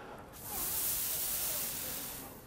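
Air hisses out of a small hole in a balloon in a steady, broad rush that swells and then eases off over a couple of seconds, close and alone.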